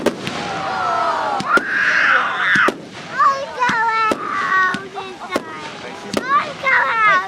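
Fireworks going off outdoors at night, sharp cracks and pops scattered through the stretch with whistling, crackling bursts between them, while excited children's voices talk and shout throughout.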